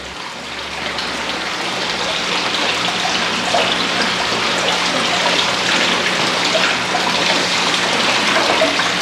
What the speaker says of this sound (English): putting some of this pond water directly into this bucket here